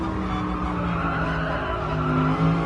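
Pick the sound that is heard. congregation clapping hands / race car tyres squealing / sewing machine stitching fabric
race car tyres squealing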